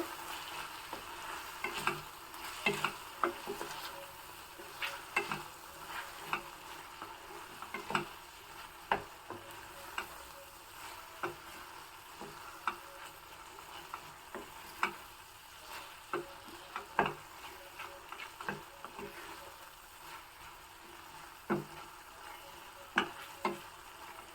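Food stirred and fried in a pan while cooking at home, a soft continuous sizzle broken by repeated sharp scrapes and taps of a spoon at an uneven rhythm.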